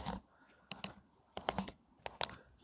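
Keys tap on a Trimble TSC5 controller keypad, a handful of sharp, quiet clicks in small irregular bursts, close and alone.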